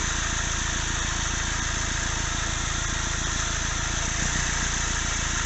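A Kia Venga 1.4L CRDi diesel engine with a black smoke fault idles at a steady, even chug, close and continuous, with a deep rumble throughout and no voices.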